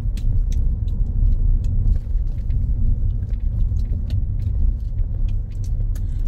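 A car driving on a rough unpaved road in rural Azerbaijan: a steady, loud low rumble from inside the cabin, with scattered clicks and rattles from the bumpy surface and no talking.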